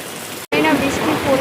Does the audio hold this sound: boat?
no